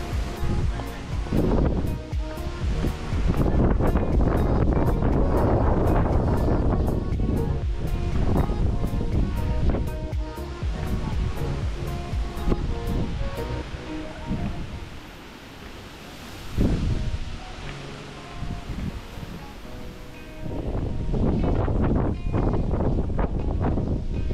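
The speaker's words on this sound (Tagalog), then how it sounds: "Sobrang mahangin sa part na to kasi taktok na to ng bundok." Strong wind buffeting a mountaintop in Dingalan on a hike, loud roaring gusts that surge and ease in waves, briefly dropping to a lull midway before blasting hard again.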